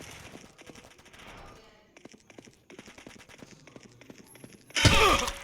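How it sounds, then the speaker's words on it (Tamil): Gunfire in a video shooting game: scattered crackling shots and thuds across the clip, ending in a loud, dense burst of fire close by. "அவன் அங்கேருந்து சுட்டான்."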